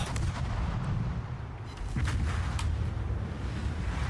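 Heavy warship gunfire in the naval combat game World of Warships, rendered as a dense, continuous low rumble with a few sharper booming reports standing out over about four seconds, no talk.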